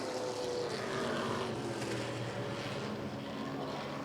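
A race car engine at roughly half throttle at a racing expo makes a steady, fairly distant roar that holds even with no breaks, and no one speaks over it.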